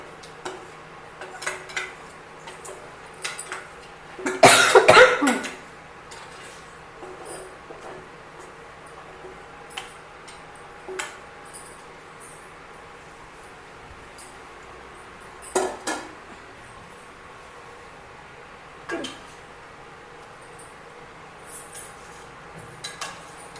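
A spoon scrapes and clatters against a pot while chicken pickle is stirred, with a loud burst of metal scraping early on and scattered lighter knocks and clinks after, under quiet background.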